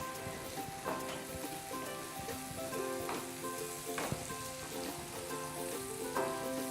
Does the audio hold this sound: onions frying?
yes